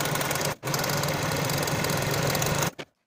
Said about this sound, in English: I'm going to take it to my serger and finish the vertical raw edge from top to bottom for the center back